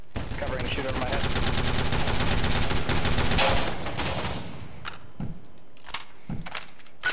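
Sustained gunfire from a police shootout in the video game Garry's Mod, dense rapid shots for about four seconds, then a few scattered separate bursts, with voices faintly underneath.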